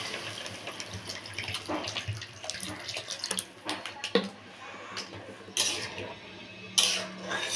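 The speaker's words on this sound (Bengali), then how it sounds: "এবার আমি দিয়ে দেবো এর মধ্যে জল।" Water is poured into a pot of cooking dal (lentils), giving soft, irregular splashes and sloshes with a few sharper clinks, fairly faint and close by, with no talk over it.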